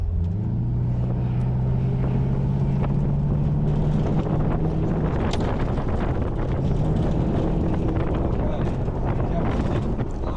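An autocross car drives hard and brakes on a course, its engine droning steadily then easing under heavy wind buffeting on the microphone, loud and close throughout.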